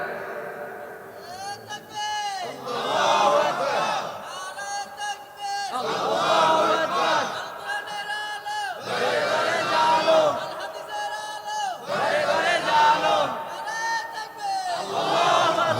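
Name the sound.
crowd chanting takbir (Allahu Akbar)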